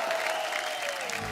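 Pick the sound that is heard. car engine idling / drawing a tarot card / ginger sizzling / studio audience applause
studio audience applause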